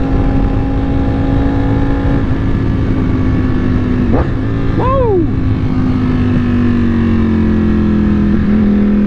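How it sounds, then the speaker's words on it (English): A Ducati Panigale V4 motorcycle idles and rumbles steadily in early-afternoon traffic, its loud exhaust droning throughout, with a brief rising rev and a person's excited shout partway through. "this turn, the exhaust seems like it keeps getting louder and louder."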